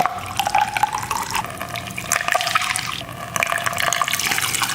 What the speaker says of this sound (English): we'll fill up each cell with our Epsom salt and distilled water solution